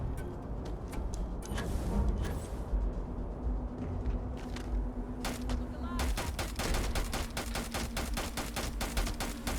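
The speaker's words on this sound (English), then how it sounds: "I'm gonna pull out the Maelstrom, chat. It's a good gun." Rapid bursts of Maelstrom gunfire in the video game Starfield, loud and close, with a steadier stream of shots in the second half over a low in-game background.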